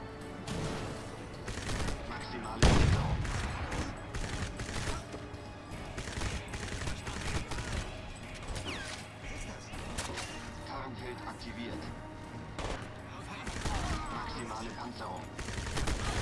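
Rapid bursts of gunfire aimed at the player in the shooter Crysis, with sharp shots and automatic volleys crackling continuously over a loud battle scene, one heavy blast standing out early, while someone talks over it.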